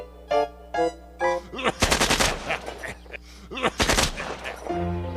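Rapid bursts of cartoon gunfire from a gun being fired at the shooting range, loud dense volleys around music and a voice, stopping and restarting in two main barrages.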